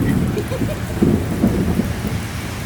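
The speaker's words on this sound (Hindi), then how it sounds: "ऊपर देख ऊपर कितनी रेन आ रही है" Heavy rain pours down steadily outdoors during a storm in America, a dense continuous roar with low rumbling underneath, loud and unbroken throughout with no talking.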